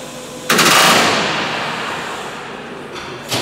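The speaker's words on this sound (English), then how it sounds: "about to start riveting the skins to the fuselage frame" A pneumatic rivet gun hammers rivets into aluminium skins on the fuselage frame of an Avro Lancaster bomber under restoration, a loud close rattling burst that rings and fades, then a short second burst at the end.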